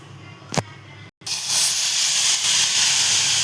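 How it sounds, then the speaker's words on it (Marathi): Milk hits a hot pan just used for frying bread: a brief clink, a moment of quiet, then a loud, sustained steamy hiss that holds steady close up. "इथे आता त्याच पॅनमध्ये दूध टाकतो आपण."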